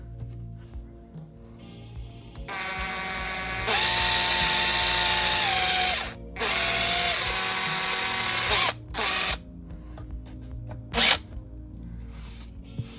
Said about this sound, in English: And I'm running the drill bit for a while not pushing it any further in.